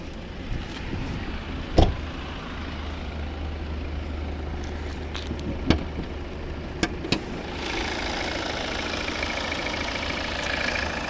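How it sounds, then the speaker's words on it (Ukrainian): A 2014 Volvo V70 2.0 D4 diesel engine idling steadily with a low hum, a few sharp clicks and knocks over it, then the revs rise into a louder whirring run. "І як працює наш двигун."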